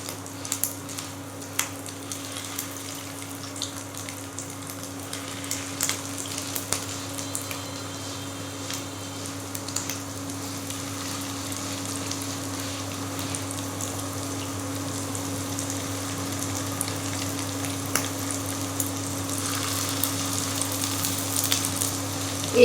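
Fish roe fritters fry in hot oil in a kadai, a steady close crackling sizzle that runs unbroken over a low electrical hum, with occasional sharper pops and a few soft handling knocks.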